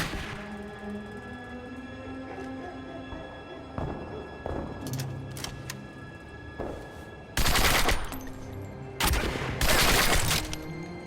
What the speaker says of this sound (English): there's still somebody down there shooting at me